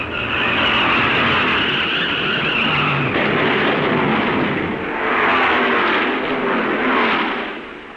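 A stock race car at the Darlington Southern 500 loses power as its engine goes, a loud sustained roar and whine of racing engines passing close, swelling and fading near the end.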